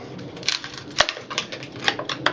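Sharp hammer taps knock at pieces during a bathroom remodel, several uneven knocks with one loud crack near the middle, close and fairly loud.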